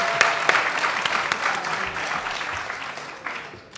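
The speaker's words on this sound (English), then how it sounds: "can we give another round of applause for our urban leaders, please?" Audience applause at an urban community network conference plenary, a dense steady clatter of many hands clapping that holds throughout and tapers slightly toward the end.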